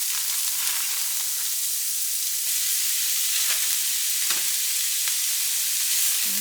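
Chopped onions fry in bacon grease in a pan, making a steady loud sizzle close by with a few faint clicks of stirring, and no talk.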